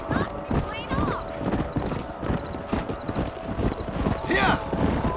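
Horses gallop in the video game Red Dead Redemption 2, a steady clip-clop of hooves with a whinny rising near the end, under a busy game soundtrack and voices.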